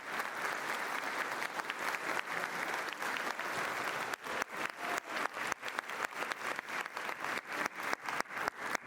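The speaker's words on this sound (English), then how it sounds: "Let's give them all a big round of applause" Audience applause at a scholarship awards ceremony, a large room filled with sustained, dense clapping that later breaks into a steadier rhythmic clap, loud and unbroken by talk.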